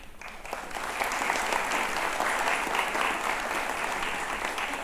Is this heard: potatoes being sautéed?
no